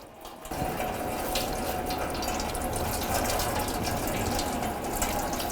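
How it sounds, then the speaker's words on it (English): Coolant drains from a disconnected radiator hose on a 2006-2011 Cadillac DTS, a steady rushing pour of liquid that starts abruptly and continues evenly at close range with no talk. "let that coolant drain"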